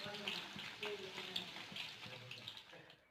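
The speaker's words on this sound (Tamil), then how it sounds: "நான் எண்ணெய் நல்லா சூடா இருக்கும்போது போட்டு பொரிச்சு எடுத்துடலாம் இப்போ." Chicken 65 pieces fry in hot oil for a roadside-style chicken fry, making a soft, steady bubbling sizzle with light crackles, faint and close, while someone speaks quietly over it.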